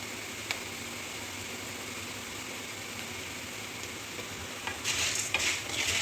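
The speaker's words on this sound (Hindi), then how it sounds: "साथ साथ मिक्स करते रहें ताकि ये बैलेंस होके पकती रहे" Panjeeri ingredients are stirred and fried in oil, a steady soft sizzle runs throughout with occasional light clinks, and louder scraping and stirring bursts come near the end, close by and with no voices.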